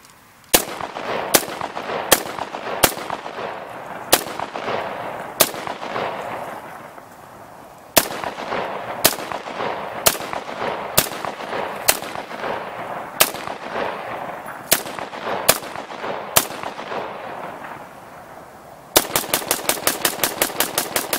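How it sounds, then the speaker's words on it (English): A Faxon ARAK-21 rifle emptying a full magazine of .223 outdoors: loud, sharp single shots at a steady irregular pace with long ringing decays, ending in a rapid string of fast shots, no talking. "We'll run this mag, see if we have any failure to ejects, failure to fires"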